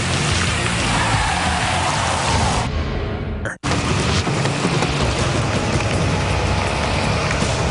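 Heavy rain pours during a storm-soaked bike race, a loud dense hiss that fills the scene apart from one abrupt momentary cut, with no talking.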